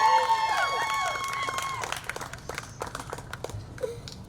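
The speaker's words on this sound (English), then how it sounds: "And if we could have a round of applause for all the graduates." Scattered applause and light cheering for graduates at a Savannah College of Art and Design mini graduation ceremony, modest clapping from a small crowd with a loud voice over it at first, then thinning out.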